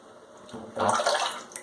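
A safety razor being rinsed under running water, a brief splashing gush that swells after a quiet start and then trails off.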